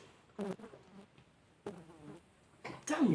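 A housefly buzzes in short bursts around an indoor room, zipping close in three loud passes separated by quieter stretches.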